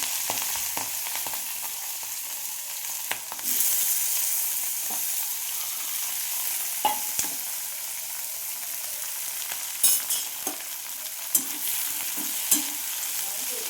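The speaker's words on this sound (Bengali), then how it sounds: "তো আমি চিংড়ি মাছটাকে পুরো মানে একসাথে পেঁয়াজ সব একসাথে দিয়ে দেবো" Prawns and onions frying in hot oil on a gas stove: a continuous close sizzle with scattered sharp clicks and pops from stirring throughout.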